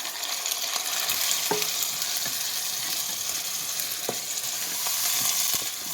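Canned diced tomatoes get stirred into sizzling hamburger meat and onions in a chili pot, with wet scraping and occasional spoon knocks over a steady frying hiss, close up.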